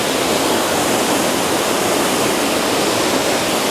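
A waterfall near Cali, Colombia roars in a loud, unbroken wash of falling water close by, with no voices.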